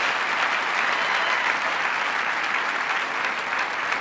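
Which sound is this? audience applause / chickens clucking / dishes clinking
audience applause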